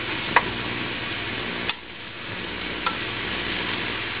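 Mixed vegetables stir-fry in a hot pan with a loud, steady sizzle, broken by a few sharp clicks and scrapes as a utensil tosses and moves them around.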